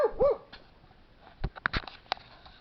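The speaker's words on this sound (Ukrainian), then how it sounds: "Нащо мені той собачий гавкіт в незнайомих місцях?" A dog barks in a quiet back street in an unfamiliar place: a short whine comes first, then several sharp barks at moderate distance.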